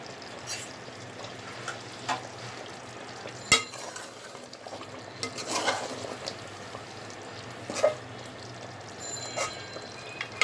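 Chicken biryani meat cooks in a pot over a low gas flame, with soft sizzling, occasional stirring scrapes and sharp clinks of a utensil against the pot, close and fairly quiet.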